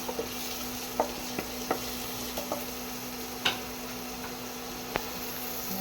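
Onion and garlic sautéing in a pan with a steady loud sizzle, broken by irregular clicks and taps of a utensil stirring against the pan; no voices.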